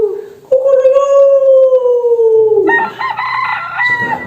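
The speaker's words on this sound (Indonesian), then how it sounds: "Setelah mendengar suara ayam berkokok" A rooster crows once in a single long, loud call that slides gently downward before breaking into a rougher, ragged finish.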